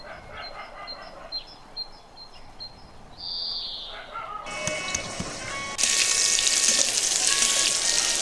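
Pointed gourd (potol) slices hit hot oil in a kadai, rising to a loud, steady sizzle of frying after a quieter stretch with faint bird chirps in the background.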